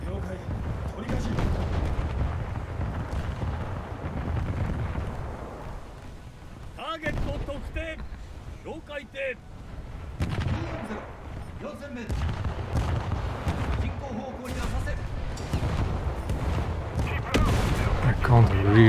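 Naval gunfire in a World of Warships style video game: dense, continuous rumbling barrages and booming cannon shots, with sharper cracks clustered midway, under steady battle noise and some voice.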